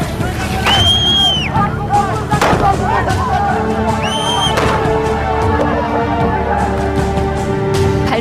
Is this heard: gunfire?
yes